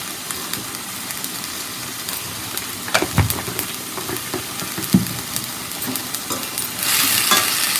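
Onions sautéing with salt in a pan for a goat intestine gravy and fry, a continuous close sizzle broken by scattered stirring scrapes, swelling louder near the end, with no voices.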